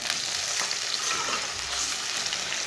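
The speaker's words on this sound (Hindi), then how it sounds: "गोश्त डाल के इसे 1 मिनट तक भून लेंगे।" Boiled meat sizzles and fries in a pan with lightly browned onions, a dense continuous crackle close up, with occasional scraping from stirring and no talking.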